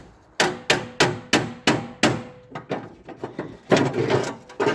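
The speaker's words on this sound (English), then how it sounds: "it needs tapping in with an hammer." Sharp hammer taps ring out in a steady run of about six blows fitting a tight part in a Ford Capri Mk3 engine bay, followed by a few lighter, quicker knocks and some clattering handling noise.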